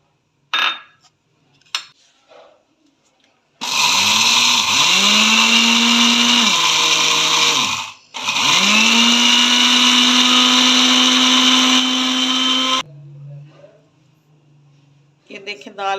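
A blender jar grinding lentils roars loudly and steadily for several seconds, briefly stops, then grinds again, with soft kitchen clatter before and after.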